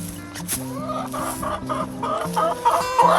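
Guinea fowl in a pasture poultry pen giving steady repeated clucking calls, close and fairly loud, several birds overlapping with no talk.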